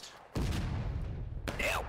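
Musket and artillery fire in the Civil War game War of Rights, with a heavy boom at about a third of a second and a second blast near the end, over a continuous low rumble and faint background voices.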